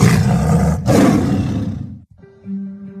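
A loud, close tiger roar used as a sports-broadcast sound effect for a university's Tiger Athletics, two heavy growling bursts trailing off, followed by a short sustained synth tone.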